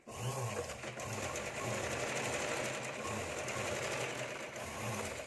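An electric sewing machine stitching tucks in fabric, a close, quick, steady mechanical whirr with a few short pauses and restarts, with no talk.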